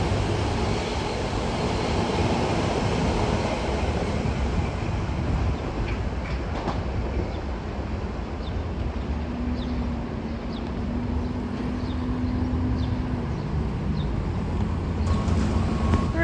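An M3A commuter train bound for Croton-Harmon, New York, rumbles past at close range, a steady roar of wheels on rails with faint clicking joints and a brief horn-like tone midway.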